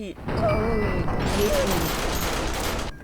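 Sustained rapid gunfire from a People's Playground physics sandbox game rattles continuously for several seconds, loud and dense, with a voice talking over it.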